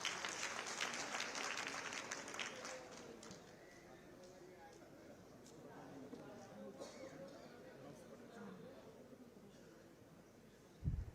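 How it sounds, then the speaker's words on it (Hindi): An audience applauds at a stage event in Mathura with a chief minister present, a faint, distant wash of clapping that fades after a few seconds, with people talking. "आप अपने प्रणाम तालियों स्वरूप मंच तक पहुंचाएं लगातार"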